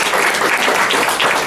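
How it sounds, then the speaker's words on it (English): Club members at a Rotary Club meeting applaud together in a brief, dense burst of clapping that holds steady throughout, with no voices standing out. "Let's give Steve a round of applause."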